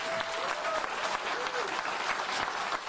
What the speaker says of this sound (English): Another round of applause for you guys.